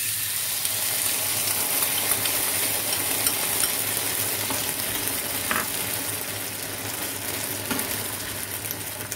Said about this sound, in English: Stir well, and now the sauce that we prepared goes into